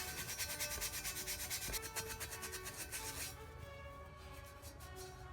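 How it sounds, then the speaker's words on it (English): Scuff pad scraping silver overspray off a car wheel during a wheel restoration, a close, rhythmic back-and-forth rubbing of quick strokes that shifts to a steadier, softer scrubbing partway through. "so I'm scraping it off with a scuff pad"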